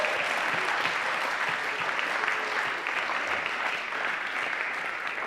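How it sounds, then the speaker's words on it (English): An audience applauds a team of named helpers at a university lecture, steady dense clapping sustained evenly throughout at moderate level, with no speech over it. "Let's give them a round of applause."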